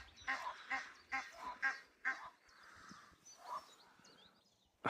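Swans near the water of a castle moat give a run of close, nasal honking calls in quick bursts, then a quieter pause and a few more calls.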